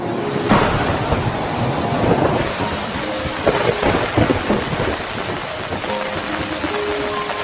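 Heavy wilderness downpour hisses loudly and constantly, with rolling thunder rumbling underneath and scattered sharp spatters and knocks of rain striking nearby surfaces.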